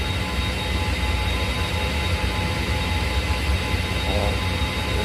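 Airbus A320 jet engines roar at takeoff, heard from inside the cabin as a loud, steady, broad drone that holds constant throughout without any talk.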